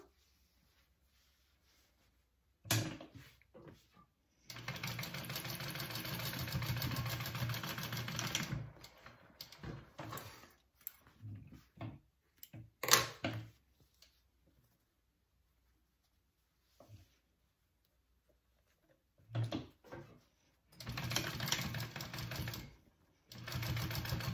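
Sewing machine basting down the side seams of a fabric sling bag, heard as bursts of steady rapid stitching separated by quiet pauses, fairly close and loud.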